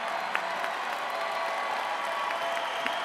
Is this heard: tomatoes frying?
no